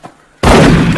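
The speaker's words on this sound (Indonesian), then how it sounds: "Jason dapat dengan mudah menembak si pembunuh bayaran itu" A single loud gunshot from The Bourne Identity bursts in abruptly after a brief quiet moment and sustains as a heavy, close blast.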